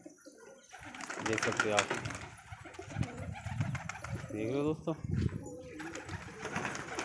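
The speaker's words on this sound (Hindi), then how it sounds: "ये देखिए अब उड़ाई इन कबूतरों को सारों को" Pigeons released to fly, with wing flaps and soft cooing mixed among lively voices and chatter close by.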